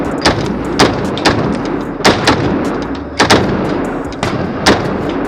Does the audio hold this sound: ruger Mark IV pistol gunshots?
yes